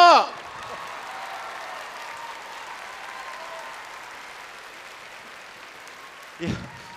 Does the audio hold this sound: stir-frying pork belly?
no